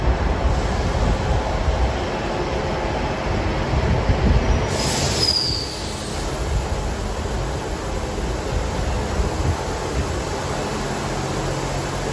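A train rumbles steadily as it slows, with a thin high-pitched wheel squeal rising briefly midway over the constant rolling noise.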